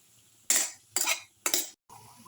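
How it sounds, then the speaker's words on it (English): Eggplant and tomato mixture being sautéed and stirred in a pan, giving three loud scraping strokes about half a second apart, then a brief pause and quieter sizzling. "Saute and mix for 6 to 8 minutes until the"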